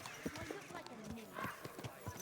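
A horse in the video game Kingdom Come Deliverance 2 arrives at a gallop after being called, with rapid hoofbeats and a whinny heard close by while a person talks over it.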